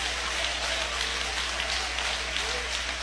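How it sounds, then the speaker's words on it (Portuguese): A church congregation applauds during a sermon, a steady wash of many hands clapping, even and fairly soft, over a low hum from the hall. "Pode dar aplausos para Jesus."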